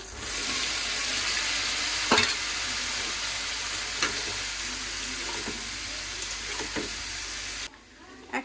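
Green chili, tomato, pumpkin and potato frying in a pan, a continuous loud sizzle with occasional scraping stirs, then the frying sound cuts away near the end.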